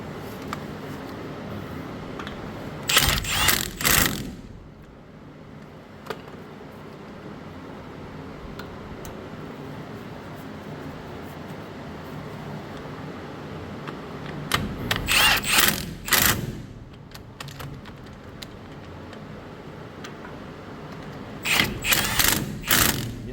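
A hand ratchet clicks rapidly in three separate bursts as bolts on a trailer brake assembly for a 7000 lb axle are tightened, with quiet workshop pauses between each burst.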